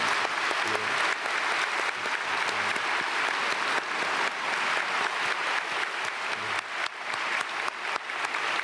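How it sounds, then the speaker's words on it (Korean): A church congregation at a Sunday worship service gives a continuous round of applause that holds at a steady, moderate level from start to finish. "박수하겠습니다."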